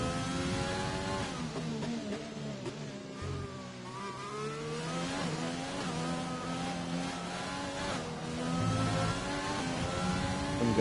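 Formula 4 race car engine in a sim racing game on an Australian circuit, revving hard and steadily with rising and falling pitch as it changes gear, loud and continuous with no talk.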